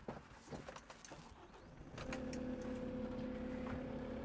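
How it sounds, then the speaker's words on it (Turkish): A Merlo Compact P27.6 compact telehandler loader starts up partway through: after a few scattered knocks, the engine catches and settles into a steady, loud, close idle hum with a tonal drone that holds to the end. "Evet, makinemizi çalıştıralım."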